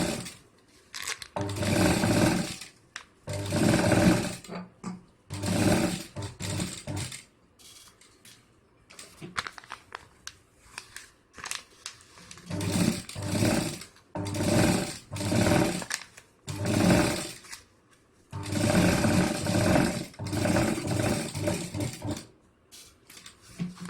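A sewing machine stitches fabric for a homemade bangle box in repeated bursts of steady rapid whirring, a few seconds each, separated by short pauses, close and fairly loud.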